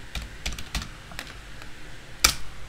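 A computer keyboard is typed on near the microphone while searching for the PuTTY terminal program, with a string of quick, irregular key clicks and one sharper tap near the end. No voice is heard.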